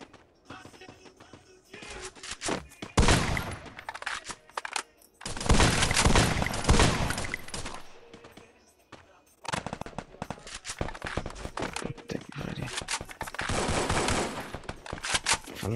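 Free Fire video game gunfire crackles in rapid automatic bursts, separated by brief lulls, with dense rattling volleys that sound close and intense.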